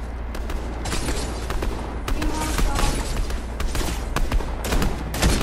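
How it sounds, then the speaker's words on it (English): Dense rapid gunfire in a Fortnite Zero Build match, overlapping bursts and sharp shots crackling continuously and loudly, with a low rumbling bed beneath and no clear speech. "Gunfire."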